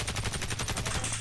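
Automatic gunfire in Warface, a rapid even stream of about a dozen sharp shots firing in a continuous burst with no talk.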